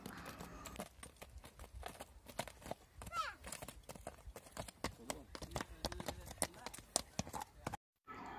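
Hooves of a horse offered for sale clip-clop steadily on the ground in an even walking rhythm, faint and somewhat distant, while people talk quietly nearby.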